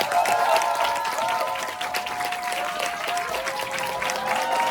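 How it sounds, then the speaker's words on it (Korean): An audience applauds a lecturer at a business seminar, sustained dense clapping at an even, fairly loud level, with a faint tonal hum beneath it. "큰 박수로 강의 부탁드리겠습니다"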